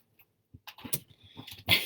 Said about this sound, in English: And now my dog has decided she wants to play.